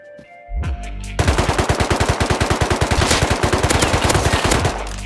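Rapid automatic gunfire from a video game weapon set to burst mode, a long steady stream of loud sharp shots following a few brief shots at the start, fairly close and with no talking over it.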